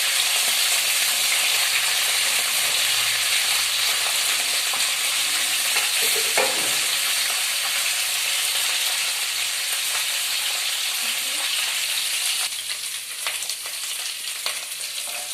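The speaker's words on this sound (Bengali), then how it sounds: "একে একে সব সবজিগুলো দিয়ে দেবো। দিয়ে একটু ভেজে নেবো।" Vegetables, including cauliflower, fry for khichuri in a loud, dense, continuous sizzle in a pan, with a scraping stir around the middle and a slight shift in texture near the end.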